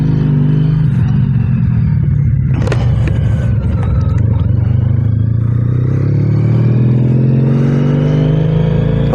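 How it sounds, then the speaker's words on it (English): A motorcycle shifted into gear and pulling away, its engine rumbling loud and close with a rising rev as it accelerates, some mechanical clatter in the mix and no talking. "Put the kickstand up and put it in gear, and away we go."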